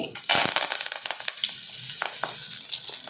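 Chili and curry leaves dropped into hot oil with spluttering mustard seeds for tamarind rasam, a loud close burst of sizzling that settles into steady frying crackle.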